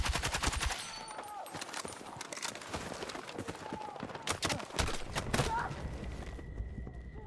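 Rapid bursts of L85 rifle fire in Battlefield 6, sharp repeated cracks coming in clusters over a continuous battlefield din, with other distant shots mixed in.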